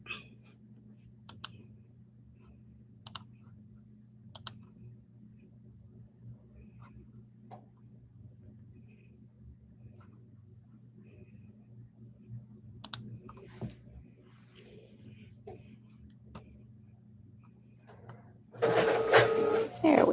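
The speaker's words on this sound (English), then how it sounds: "All right, it's printing." A printer runs off a sublimation mug design with a steady low whirring hum and scattered mechanical clicks, then a loud, dense burst of machine noise near the end.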